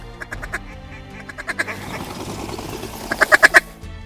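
Mallard ducks decoying at first light in Big Sky country, quacking repeatedly at close range, with scattered calls early and a louder rapid burst of quacks near the end.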